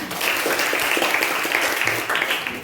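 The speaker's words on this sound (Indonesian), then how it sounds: "Iya, mencuci kaos kaki, tepuk tangan" Children in a classroom lesson clap their hands together in a steady, continuous patter of applause, fairly close and even in loudness throughout.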